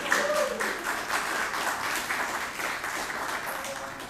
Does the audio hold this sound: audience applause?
yes